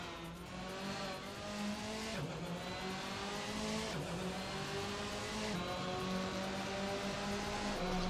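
Race cars in Assetto Corsa, driven in a community racing event, roar steadily with engine revs rising and dropping through gear changes, a sustained loud near drone with occasional tire squeal as the car slides.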